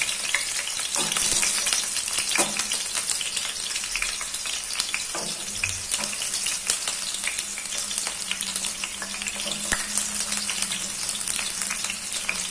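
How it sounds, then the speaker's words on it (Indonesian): Shallots and garlic sizzle in hot oil, a dense, steady crackling fry with occasional stirring scrapes, continuous and close, with no voices. "Pertama, kita goreng dulu bawang merah dan bawang putih."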